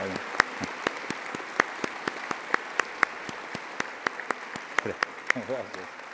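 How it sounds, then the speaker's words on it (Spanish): Audience at a Spanish-language book presentation claps in a sparse, evenly spaced run of sharp individual claps, with a voice briefly rising near the end. "Y un gran aplauso, por favor, para el doctor Graue y el doctor Narro."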